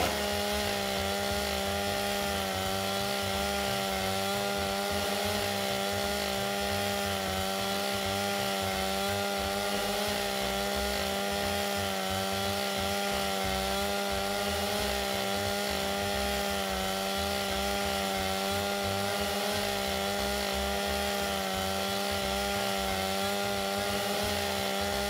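A chainsaw in The Walking Dead: Saints & Sinners Chapter 2 runs continuously for about 25 seconds, a loud, steady buzzing engine drone with a sustained whine, holding a constant level without pauses.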